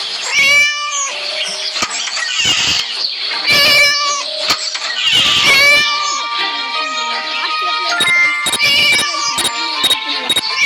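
A cat in the video game Scary Teacher meowing and caterwauling loudly and repeatedly, drawn-out cries following one another in quick succession amid short game sound effects.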